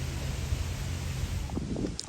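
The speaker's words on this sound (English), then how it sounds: "It's a bit windy right now." Wind gusting across an open park field ringed by trees, a steady low rushing buffet against the microphone that stays constant and fairly quiet, with a few faint rustles near the end.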